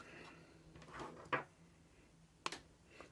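Plastic battery door of a Kenwood DMC-S55 portable MiniDisc player being handled, giving two sharp close clicks about a second apart over faint room hiss, with a few softer handling rustles around them.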